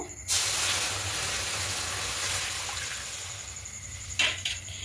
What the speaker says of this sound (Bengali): কড়াইয়ে সামান্য একটু জল দেব